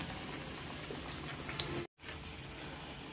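Tamarind leaves dipped in gram flour batter fry in hot oil as bajji, giving a steady close bubbling sizzle with soft crackles throughout, broken by one brief silent gap midway.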